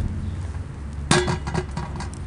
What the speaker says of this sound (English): I'm gonna put a pot on